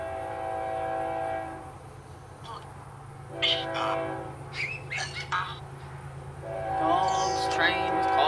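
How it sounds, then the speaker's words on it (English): A train passes close by with its horn sounding: a steady low rumble runs throughout, and long tonal horn blasts come at the start and again near the end, with brief bird-like chirps and faint voices in between. "I'm gonna wait for the train to pass before I ask any more questions."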